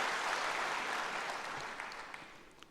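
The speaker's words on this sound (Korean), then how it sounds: "박수 한번 치세요." A church congregation applauds, a fairly quiet but dense round of clapping that tapers off gradually with a few scattered claps at the end.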